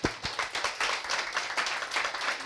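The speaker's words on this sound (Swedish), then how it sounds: "Varm applåd." Warm applause from an audience at a breakfast seminar, a short burst of dense clapping with no talk over it.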